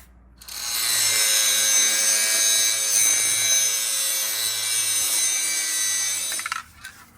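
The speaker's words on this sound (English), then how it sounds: "I'm gonna get this grinder going, grind this flat" Metal engine mount being ground flat with a grinder during an LS engine swap into a Chevrolet S-10 pickup; a loud, steady abrasive whine runs continuously for about six seconds, then stops, with no talking.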